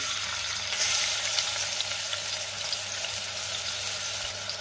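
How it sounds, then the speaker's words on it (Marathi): Chopped onion sizzles steadily in hot oil in a cooking pot for chicken sukka, a loud, close, continuous frying crackle with no voices. "तेलामध्ये मी कांदा घालते।"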